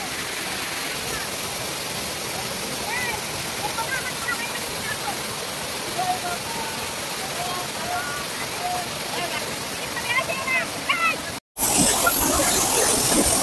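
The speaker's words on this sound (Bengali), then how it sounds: "একদম ঝর্ণার কাছে চলে এসছে" Bamni Falls in the Ajodhya Hills of Purulia roars as a steady, loud broadband rush of falling water, with voices speaking over it throughout and a brief cut near the end.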